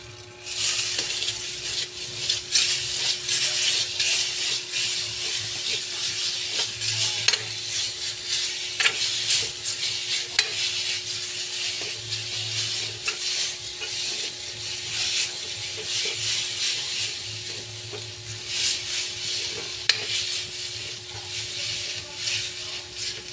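Noodles and Dutch chocolate cooking in a preheated pan give a steady, close sizzle with scraping and stirring, continuous throughout with no talking.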